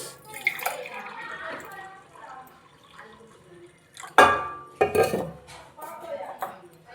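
Hot water from a hot box is poured into thoothuvalai roti dough, giving two short splashy bursts midway, with clinks of vessels and utensils around them.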